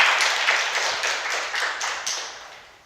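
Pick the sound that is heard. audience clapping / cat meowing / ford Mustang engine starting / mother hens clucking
audience clapping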